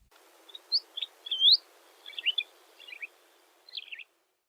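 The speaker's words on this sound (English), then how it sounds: "Listen to this unaugmented bird call." A single bird calls in a clean recording: a series of clear, high chirps and short whistled notes separated by brief silences.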